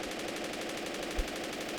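A Reibel MLE 1931 machine gun fires in the video game Men of War Assault Squad. It gives one continuous, fast burst of evenly spaced shots at a steady level, fairly faint and with no talk over it.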